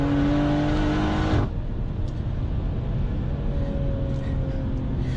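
A BMW M240i with a Wavetrac limited slip differential pulls hard under full throttle, its engine note loud and droning for over a second before it cuts off and leaves steady road and wind rush.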